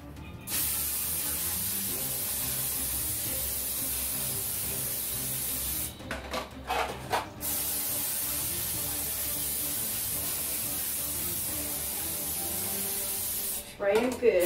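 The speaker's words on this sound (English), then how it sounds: "So, I'm going to spray my pans." Bursts of cooking spray hiss onto baking pans, one longer spray and a short one near the end, over a steady background hum.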